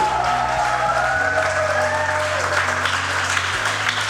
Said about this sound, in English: Can I hear a big round of applause for the successful training?